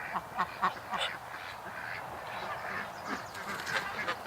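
A Muscovy duck on a homestead making soft, breathy hissing and quacking calls, several short bursts at close range over steady outdoor background noise.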